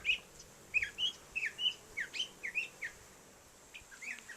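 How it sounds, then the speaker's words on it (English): Small birds chirp and tweet in quick, bright bursts at St. Marks National Wildlife Refuge, several calls overlapping nearby against a quiet background. "There we got some of the birds having a good time"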